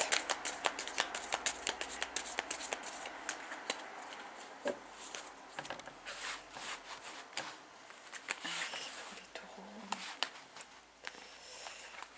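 Tarot cards are handled and shuffled close by, with rapid papery riffles and flicks going on almost without pause. Faint voices sound in the background.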